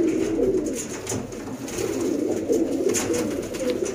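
Teddy pigeons coo steadily in a Sialkot sale setting, a continuous overlapping murmur of soft throaty calls with several birds heard at once and no talking.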